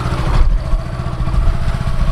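A motorcycle engine idles and chugs close by with a parachute tied to the back of the bike, a steady low rumble with slight rhythmic pulsing and a brief clatter near the start, no voices.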